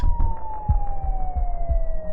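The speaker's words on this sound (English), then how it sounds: "the distant sound of police sirens" A police siren wails steadily in the distance, its tone slowly falling, with low rumbling thumps and background noise throughout.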